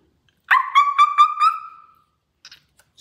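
A puppy gives a quick string of high, yelping barks that trail into a drawn-out whine, close and clear, followed by a couple of faint short yips.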